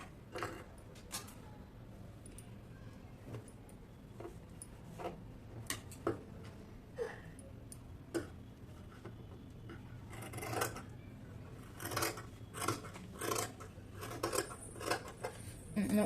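Scissors snip through dress fabric while sleeves are cut for a ready-made top, giving irregular sharp clicks and metallic crunches that cluster more densely toward the end, close by with no talking.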